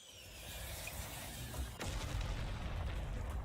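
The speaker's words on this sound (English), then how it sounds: "The distant sound of mechanical roaring was actually a mixture of gunfire and explosions" Distant gunfire and explosions in the video game Neural Cloud form a continuous rumbling roar, with a sharper boom near the middle and low-frequency blasts continuing afterward.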